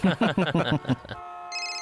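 A telephone rings with an incoming call, its electronic ringtone starting after someone speaks briefly, then continuing steadily and clearly at the end.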